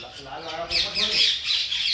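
A red and black parrot gives a run of harsh, scratchy squawks in quick succession, fairly faint and nearby, with a voice talking softly before the calls start.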